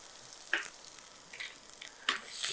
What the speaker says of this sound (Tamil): நல்லா மிக்ஸ் பண்ணி விட்டுட்டு ஒரு 2 நிமிஷம் அந்த வெங்காயம் வந்து நல்லா வதங்கி வர வரைக்கும் நம்ம வெயிட் பண்ணலாம்